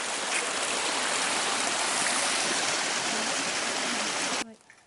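Water in Tinstone Creek near Waratah rushes steadily and loudly close by, a constant broadband flow that cuts off abruptly near the end.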